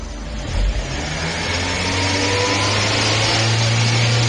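A car engine held at cruise speed during a pre-conversion test for compressed natural gas, a loud, close, steady drone with a low hum that holds even after a brief bump early on.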